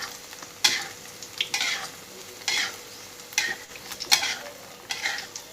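Thai-style omelette of three beaten eggs frying in plenty of hot oil, a continuous sizzle punctuated by several sharp scraping and stirring strokes of a spatula against the pan, close by with no voices.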